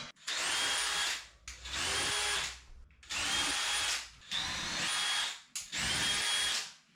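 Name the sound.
drilling large holes for Molly anchors in plasterboard wall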